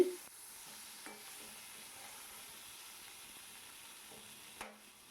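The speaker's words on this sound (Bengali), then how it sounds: "ভালো করে এখন আলুটাকে ভেজে নেবো" Boiled potatoes fry in a pan with a faint, steady sizzle and hiss, and a couple of soft stirring knocks at the start and the end.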